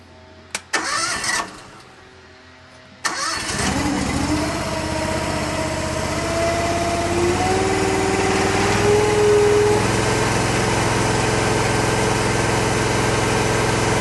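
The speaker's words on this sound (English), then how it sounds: "we're going to measure the decibels of the DRT 450 at operating speed" A DRT 450 machine engine starts after a couple of short cranking bursts, then settles into a steady, loud, high-pitched running drone at operating speed, continuous and close for the rest of the clip.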